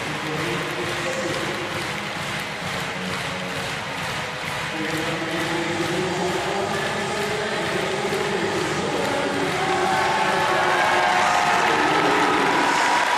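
A crowd at the Paris 2024 Paralympics swimming pool applauds and cheers a Brazilian para swimmer in a continuous, echoing wash of noise that swells slightly toward the end, with a commentator's voice over it.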